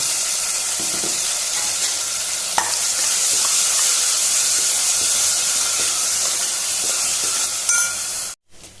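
Ground masala paste hits hot oil with spluttered mustard seeds and asafoetida while making Goan kulith ros from horse gram, giving a loud, steady sizzle and hiss that continues without a break before cutting off abruptly near the end.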